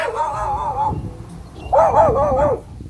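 A loud dog along a street gives drawn-out, wavering howl-like barks in two bursts, fairly close, over a noisy outdoor background.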